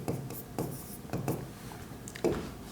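Pen or pencil scratching across paper while a Bengali bookkeeping sum for a secondary-school accounting lesson is worked out by hand, with short rhythmic strokes close by and brief pauses between them.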